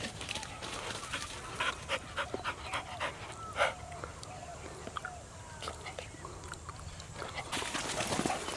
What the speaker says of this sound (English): Good dog. Come here.